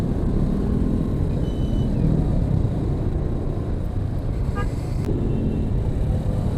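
A slow-moving traffic jam on Jalan Sudirman in Bukittinggi, Indonesia, during the Lebaran holiday: a constant dense rumble of idling and creeping engines nearby, with a short distant horn toot.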